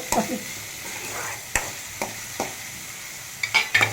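Half a capsicum stir-fries in a pan, with scattered sharp spatula clacks against the pan over a soft, faint sizzle.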